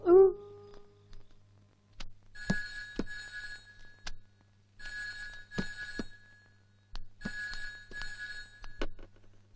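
Old-fashioned telephone ringing in a small village post office, three bursts of bright bell trills separated by pauses, with sharp clicks between, moderately loud in a quiet room.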